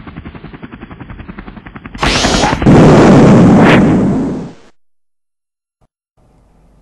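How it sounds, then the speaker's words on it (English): Loud explosion in a Doctor Who fan film, a sudden roaring blast that swells for a couple of seconds, then decays into silence, preceded by a rhythmic rotor-like thudding. "An explosion in Reading."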